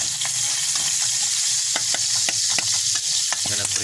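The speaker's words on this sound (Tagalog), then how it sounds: "Doon sa nagprituan natin ng ito, doon din tayo gigisa." Onions sizzle and fry in oil used for frying catfish while a utensil stirs and scrapes the pan, with repeated clinks over a constant hiss, close and alone.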